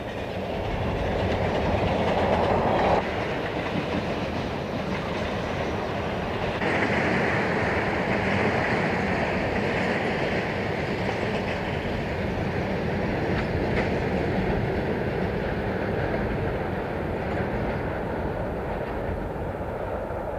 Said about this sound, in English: The train works hard as it climbs up out of the valley to cross Yampai Hill.